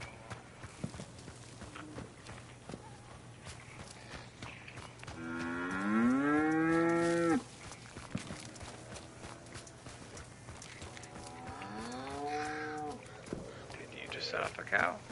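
Cow mooing inside a video game, two drawn-out moos at middle distance, the first long and loud, the second shorter and softer, over a steady low hum and quiet background sounds.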